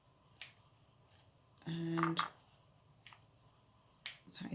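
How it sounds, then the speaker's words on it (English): Kitchen scissors snipping cooked air-fried chicken breast: a few crisp, close snips with a brief pause between them, quiet and in a still room. "I'm just going to snip some pieces of this in here"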